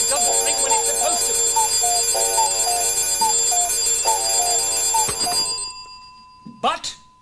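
A favourite alarm bell rings steadily in a repeating pattern of clear tones over a constant hum, then stops, leaving a few brief knocks and rustles.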